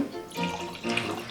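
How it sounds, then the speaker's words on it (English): 2010 Eroica Riesling white wine poured into a glass, a soft continuous splashing liquid trickle with gentle swells, close and steady for about a second and a half. "So I'm going to start by pouring you our 2010."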